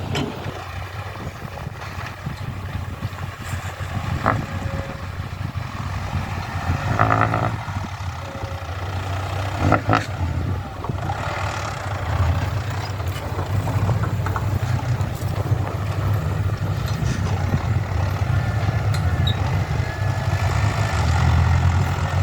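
A tractor engine runs steadily in a field during farm levelling work, a continuous low, rumbling idle with a faint mechanical rattle that holds at an even, moderately loud level throughout.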